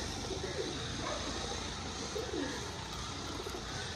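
Giribaz pigeons coo softly in a shop, a few low burbling calls over a steady background hiss.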